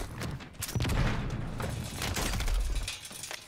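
Sustained automatic gunfire in the shooter Warzone 3, a loud continuous burst of close shots with booming low end and no talk.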